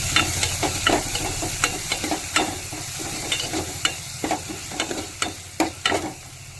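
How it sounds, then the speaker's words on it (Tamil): Ingredients for rasam are sautéed in a pan under a soft continuous sizzle, broken by repeated sharp scraping and clinking strokes of a stirring spoon. No one speaks. "அந்த அளவுக்கு நல்லா வதக்கணும்."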